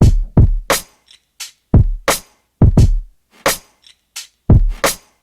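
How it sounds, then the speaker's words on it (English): An original boom bap drum loop at 87 BPM hits with punchy kicks and bright cracking snares in a steady, loud, repeating pattern, with light percussion ticks filling the gaps. "We're gonna first start off with the original drum loop."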